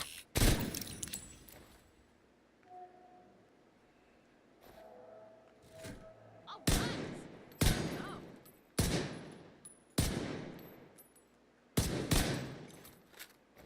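Gunfire in The Division 2, heard as a string of sharp, loud single shots spaced a second or two apart, each with a short crack and tail, over quiet game ambience.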